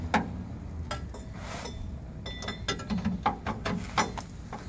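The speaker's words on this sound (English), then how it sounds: "Now hold it from the top with the ratchet. And it'll come right out." A ratchet loosens a rear shock absorber bolt on a 1977-1985 Chevrolet Impala, giving close, irregular bursts of sharp clicks over a low background.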